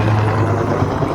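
A firefighting helicopter's steady rotor thrum and engine drone, loud and sustained as it passes close overhead while fighting a wildfire at Mima Mounds, south of Olympia, Washington.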